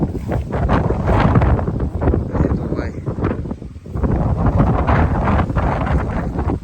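Wind gusts across a hilltop in the Gir countryside, a loud, close, rumbling rush that batters the microphone almost without pause, dipping briefly midway before surging again.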